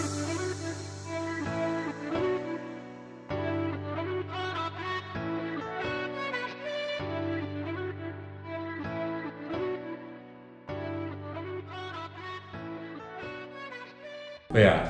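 Closing section of an EDM track built in FL Studio: sustained piano chords with a lower-pitched vocal chop repeating over them in steady blocks, the full mix holding level before cutting off abruptly at the end.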